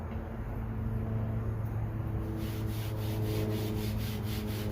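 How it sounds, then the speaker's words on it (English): Metal scraper rubbing across a hot Blackstone griddle during seasoning, a steady continuous scraping with a rhythmic pulse of strokes in the second half, close and fairly quiet over a low hum. "My understanding is you don't want to scrape it too hard, guys."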